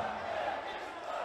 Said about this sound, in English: he's receiving magnificent support from this crowd here at the Humo Arena